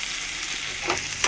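Onions browning in a hot pan, a steady, close sizzle with bright crackling spits and a few stirring scrapes, no voices over it.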